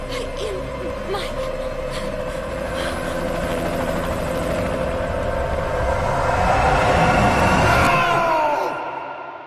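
A helicopter in Metal Gear Solid V drones loudly and steadily, its rotor close and continuous under shouting voices, then the sound cuts off sharply near the end.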